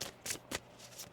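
A deck of tarot cards is shuffled in three quick riffling bursts, each a short papery flutter, close and fairly quiet, with no voice over them.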